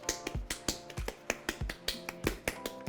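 Gordita masa dough, filled with chicken, rajas and cheese, gets patted between clapping hands: sharp, evenly spaced slaps about four per second, close and steady, with no talking.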